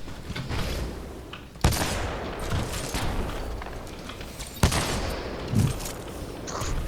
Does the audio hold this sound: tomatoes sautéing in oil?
no